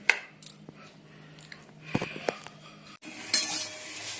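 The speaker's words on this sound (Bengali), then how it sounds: "এইগুলো উচ্ছে আর পেঁয়াজ ভাজা হয়ে গেছে, নামিয়ে দেবো এবার।" Bitter gourd and onion fry and get stirred in a pan: a spatula scrapes and clinks against the metal in irregular strokes, with a steady soft sizzle that rises louder near the end.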